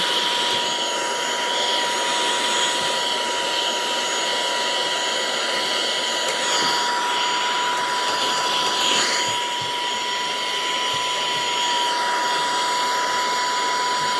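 A small handheld vacuum cleaning a multineedle embroidery machine runs steadily at close range, a loud continuous high-pitched whine and rushing air, with slight shifts as it is moved.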